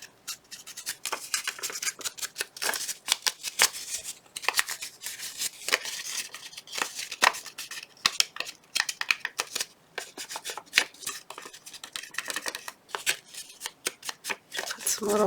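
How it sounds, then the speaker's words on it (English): Paper being folded and creased by hand while making a medieval-style hinge journal, with repeated crisp rustles and rubs close up, interrupted by bursts of talking. "I'm going to fold this."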